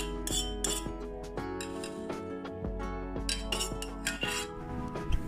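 A utensil repeatedly clinks against a bowl while turmeric powder is stirred into glutinous rice flour, with quick irregular taps over faint background music.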